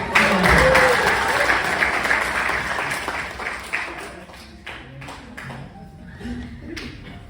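A church congregation bursts into loud applause during a sermon on marriage. The clapping is dense at first, then thins out into scattered claps and taps as voices rise beneath it.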